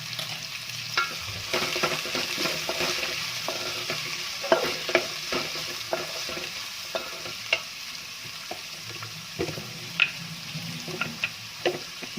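Chopped onion and green chillies fry in a pan for a coconut fried chicken curry, giving a steady, moderate sizzle with scattered small pops and spatula ticks throughout.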